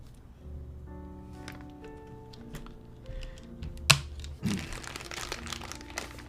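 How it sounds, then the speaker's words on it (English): A space bar on a custom artisan-style mechanical keyboard with metal stabilizer bars, pressed down on one side, gives a sharp close click around the middle and a softer rattling thud after, over faint room noise. "press down on one side of the space bar, so all of the pressure will be on one side"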